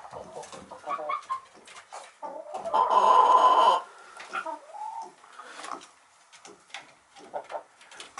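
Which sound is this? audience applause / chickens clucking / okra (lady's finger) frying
chickens clucking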